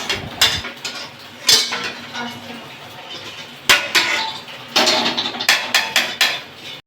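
Cooked spice masala is scraped and poured from a wok into a cooking pot, with sharp metallic clanks and knocks of a spoon against metal in irregular bursts and faint voices in the background.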